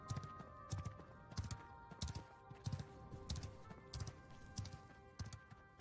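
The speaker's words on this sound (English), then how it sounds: "There's a bunch of horses here." Horse hooves clip-clop in a steady, repeating rhythm while a group of mounts moves through a fantasy MMO game world, Ashes of Creation, with the even, close hoofbeats carrying across the whole stretch and no talk.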